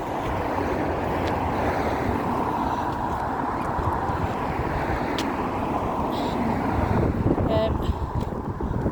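Strong wind buffets and roars steadily, rumbling across the microphone throughout with a faint hiss on top; no one speaks.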